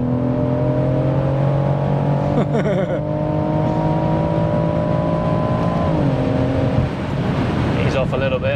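A tuned 730 bhp BMW M140i accelerating hard in Sport Plus mode, its engine note climbing loud and close from inside the car, with brief dips at gear changes before rising again.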